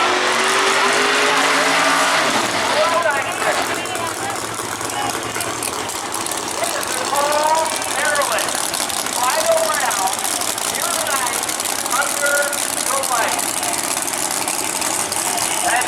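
A powerful Camaro drag race car at a raceway idles with a loud, rough, continuous rumble, while an announcer talks over it the whole time.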